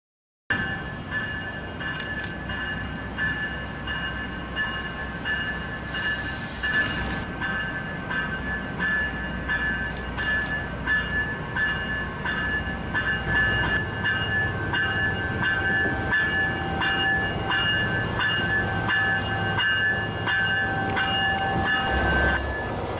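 A Coaster commuter train pulls slowly away from San Diego station toward Oceanside, its steady rumble and rail noise continuing throughout, with a brief hiss partway through and no talking.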